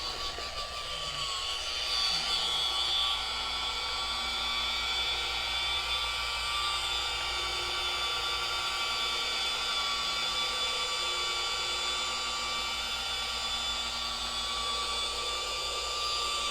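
A DIY Detail Max Gloss rotary polisher runs with a steady, continuous motor whine and drone at a constant level, close and loud, with no pauses.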